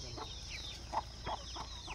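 Five-month-old free-range country chickens on a farm give short, scattered clucks over steady low-level background noise, with a few louder calls standing out.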